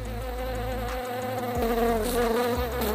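A loud, close bee buzz hums continuously, its pitch wavering and shifting as it moves around.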